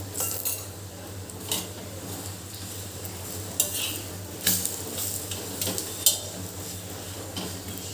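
Dudhi (bottle gourd) thepla roasting on a pan with a teaspoon of oil, a soft continuous sizzle under recurring spatula scrapes and light metallic clinks, close and without talk.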